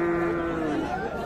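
Cattle at a rural cattle market in Raniganj, Dinajpur, give a single long, low moo close by, with crowd chatter and voices in the background.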